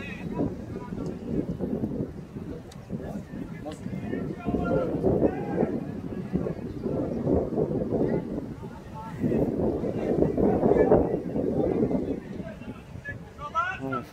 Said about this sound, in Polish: Fajny wiaterek tutaj jest, super przyjemny.